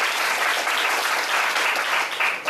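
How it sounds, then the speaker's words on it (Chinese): An audience at a philosophy lecture in Taichung claps steadily, a dense, even burst of applause filling the whole stretch without talk. "好，那掌声热烈欢迎一下"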